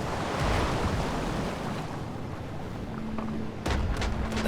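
Sea waves in The Caribou Trail, a WWI adventure game, wash in a steady broadband roar with wind-like hiss, swelling and easing, with a brief thump near the end; no one speaks.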